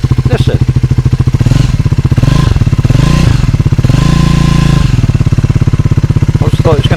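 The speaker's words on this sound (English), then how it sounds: "Sounds a bit raughty on tick over, and then when you rev it up it seems to be quieter" A Triumph Scrambler 400 X motorcycle engine idles with a steady low pulsing beat, then revs up into a smoother, sustained drone a few times before dropping back to idle, close and loud.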